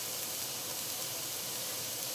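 Cauliflower tossed into a pan of sautéed masala and turmeric for a vegan butter cauliflower curry, giving a steady, close sizzling hiss that holds at an even level throughout with no talking.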